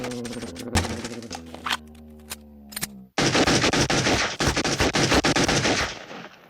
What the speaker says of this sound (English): When I had finished shooting